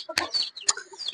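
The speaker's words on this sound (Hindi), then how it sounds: "तो ये मुर्गी सब दिखाओ भाई" Close, sharp chicken clucks in a few quick bursts in an Indian village, with scattered softer bird calls between them.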